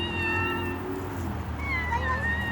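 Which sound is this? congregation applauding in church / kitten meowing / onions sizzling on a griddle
kitten meowing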